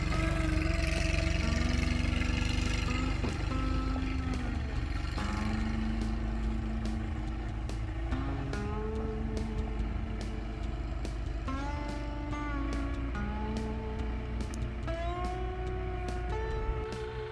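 A vehicle in four-wheel drive low climbs a hill with a steady low engine drone, its pitch rising and falling as it strains, over a dense background of whistling and chirping sounds and faint clicks, with no talking.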